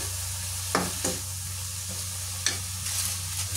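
Bitter gourd with a little salt being stirred in a frying pan, a continuous sizzle broken by a few close scraping strokes of the utensil.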